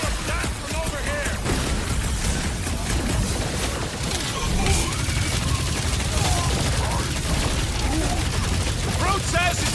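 Gunfire in the Guardians of the Galaxy video game: continuous dense volleys of shots and impacts over a full combat soundscape, with voices in game dialogue mixed in throughout.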